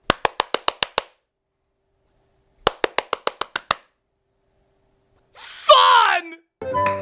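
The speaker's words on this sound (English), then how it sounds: "His sister made it go right or left just by clapping her hands." Hands clap to steer a robotic toy cat: a quick run of about eight sharp claps, a pause, then another burst of about eight, followed by a short meow-like electronic sound and a brief noise.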